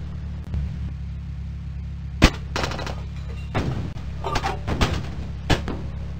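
A StuG assault gun fires in the World War II tank game Across the Rhine: one sharp, loud cannon blast stands out, followed by several softer thuds and clanks over a steady low engine rumble.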